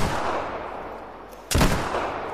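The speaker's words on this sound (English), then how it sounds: "I shot him in the head." A single loud gunshot from a hunting rifle in the video game theHunter Call of the Wild, a sharp close blast with a short decaying tail over a low game ambience, no speech.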